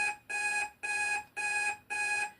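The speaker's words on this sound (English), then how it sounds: "sorry y'all, that's my timer" A timer alarm goes off in four evenly spaced, loud electronic bursts. Each burst is a bright, ringing tone with short gaps between, and nothing else is heard.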